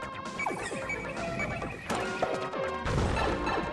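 A kart crashing in Super Mario Maker: loud video game smash and crash effects with clattering impacts and descending tones, several bursts in quick succession over busy game music.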